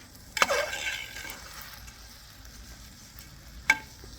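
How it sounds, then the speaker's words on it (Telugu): Boneless chicken for biryani fries quietly in a pan, a low steady sizzle with two brief sharp clatters of a utensil near the start and end. "సో ఇది కొంచెం ఫ్రై అవుతుంది,"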